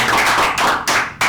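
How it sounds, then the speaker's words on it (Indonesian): A talk-show audience claps for two guests in a short burst of applause. The clapping is loud and close, rises in a few quick surges, and has no talking. "tepuk tangan yuk buat Bang Jo dan Bang Tito"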